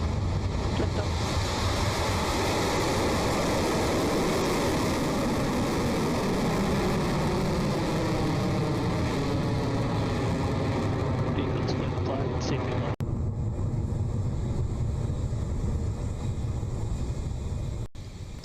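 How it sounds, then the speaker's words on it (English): A Rocket Lab Electron rocket lifts off from Launch Complex 1 on New Zealand's Mahia Peninsula with a loud, continuous broad roar that holds steady throughout, while a voice talks over it. "The beginning of the swarm has begun its ride to space with that clean Electron liftoff from LC-1"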